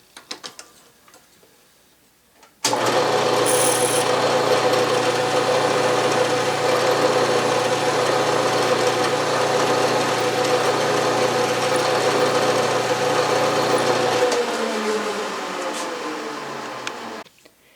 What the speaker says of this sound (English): I drill a little ways and then there's going to be an angled hole drilled.